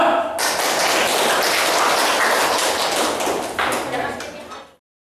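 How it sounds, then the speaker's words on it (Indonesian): Classroom applause for a student group presenting in a school lesson, a dense wash of many hands clapping steadily at close range for several seconds before cutting off abruptly. "Tepuk tangan buat kelompok 2."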